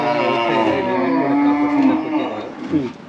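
A native desi cow at a goshala in Bengaluru gives one loud, sustained low moo right up close, tapering off into rustling.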